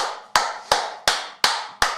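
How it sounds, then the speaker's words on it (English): Five sharp, evenly spaced hand claps ring out close by in a room, each with a short echoing decay, alone without talk. "Jimmy starts clapping for no reason"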